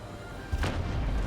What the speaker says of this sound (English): we're gonna turn out to fire cannon in the back